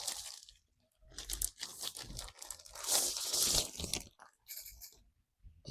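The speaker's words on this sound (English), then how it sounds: "Let's open the box." Cardboard and plastic packaging from a Keychron Q7 wired custom mechanical keyboard box crinkle, tear and rustle up close in irregular bursts separated by short pauses, with no talking.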